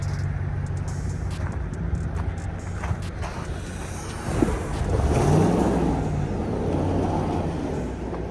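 A Ram pickup truck stuck in deep snow revs and spins its tires, a loud engine roar that swells midway, with no talking.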